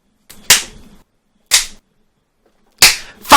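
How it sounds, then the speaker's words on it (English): Gunshots crack in a visual novel video game, three sharp separate reports spaced about a second apart, loud and alone without talk. "Hear that back and forth exchange of gunfire in the distance, almost like a tinnitus."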